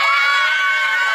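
Crowd at a one-on-one basketball game cheering and shouting together, a loud, sustained burst of many excited voices that holds steady through the moment.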